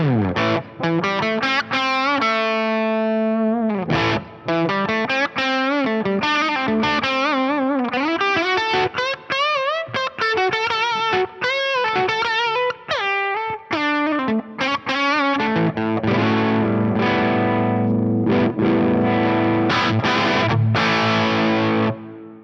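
Electric guitar with its tone control rolled down, played through distortion and effects, a steady run of sustained chords and single notes with a darker, muffled top end, loud and alone throughout.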